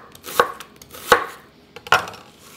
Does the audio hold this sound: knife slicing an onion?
yes